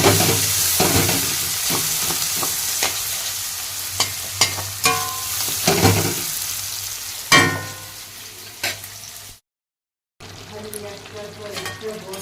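Onion, ginger and garlic fry for a mutton curry with a steady sizzle and repeated stirring knocks and scrapes. The sound cuts out briefly near the end, then resumes.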